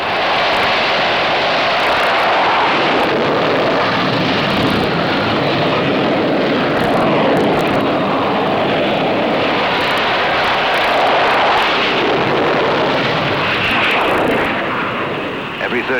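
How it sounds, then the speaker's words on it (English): A 20-ton carrier aircraft launches from a standing start off a carrier at Yankee Station during the Vietnam air war, its engine roaring loud and sustained throughout. "From a standing start, 20 tons of aircraft reach flying speed in 2 seconds flat."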